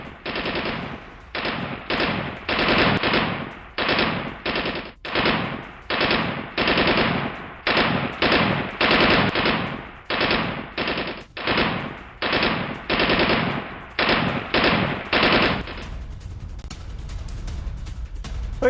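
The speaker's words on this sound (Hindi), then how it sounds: "ये देखिए आप, प्रदर्शनकारियों पर गोलियां चलाई गई है।" Rapid bursts of automatic gunfire aimed at protesters in Iran ring out again and again, loud and close, with short gaps between volleys before the firing stops.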